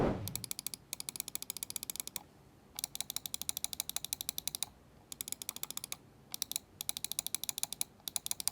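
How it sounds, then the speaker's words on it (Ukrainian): MSI Clutch GM31 wireless gaming mouse buttons clicked in rapid rhythmic runs, crisp close-up clicks broken by short pauses, no talking. "Під кнопками перемикачі на 60 мільйонів натискань, і клік тут прикольний"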